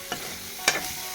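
Boiled silkworms fry in a pan with spices under a steady close sizzle, and a spatula stirs them with three sharp scraping strokes.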